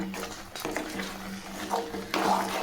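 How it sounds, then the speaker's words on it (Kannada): A spoon scrapes and stirs a coconut and jaggery filling with poppy seeds in a pan, making steady close scraping sounds with occasional louder knocks against the metal. "ಇವಾಗ ಒಂದು ಐದು ನಿಮಿಷ ಇದನ್ನು ತಿರುಗಿಸ್ಕೊಳ್ಳೋಣ"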